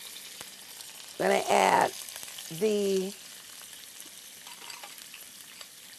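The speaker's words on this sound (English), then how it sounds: "There's my sizzle" Asparagus sizzles steadily in a hot pan, a continuous crackling hiss, while a voice speaks briefly over it.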